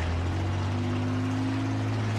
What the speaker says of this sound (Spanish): Helicóptero hostil avistado en vuestra zona.